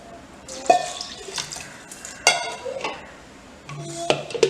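Water is poured from a measuring cup in short bursts of splashing and trickling into a vessel, with a few light knocks of the cup against the rim, close and moderately loud.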